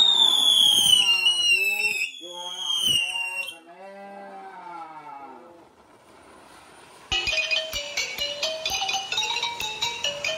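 Fireworks at a funeral wake in Gò Quao, Vietnam, with loud, high whistling tones that slide downward, a brief lull, then a dense, steady run of bright, rapid pulses, all close and prominent.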